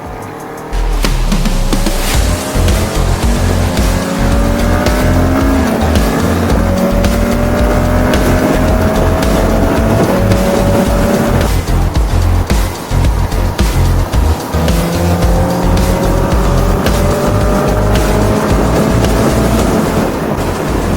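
A Porsche 911 GT3 RS engine roars continuously, revving up and shifting gears as the car drives nearby, with steady rumble and rising whine.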